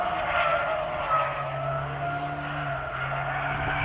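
A Seat Leon Cupra ST 290 pushes through a corner, its tires squealing in a sustained, wavering howl as the front axle loses grip, with a steady engine drone beneath and no talking.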